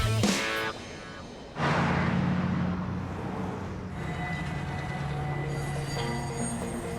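Freight train cars rolling through a busy railway hump yard near Chicago, a steady heavy rumble with sustained wheel squeal and tonal screeching, loud and continuous with an abrupt shift partway through.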